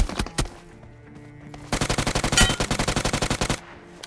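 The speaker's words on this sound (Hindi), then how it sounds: "मुझे पीछे वाले कंपाउंड से शॉट्स आने स्टार्ट हो गए" Automatic gunfire in the BGMI mobile battle royale game: a couple of single shots, then a rapid sustained burst of evenly spaced rounds, loud and close.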